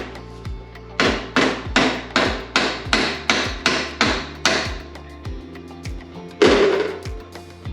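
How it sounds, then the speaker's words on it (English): A hammer flattens a rivet head while repairing a Front Runner expander chair, striking about a dozen times in a steady, even rhythm. Each blow is a sharp, close metallic knock, and a single heavier hit follows after a pause. "Flatten the rest with a hammer"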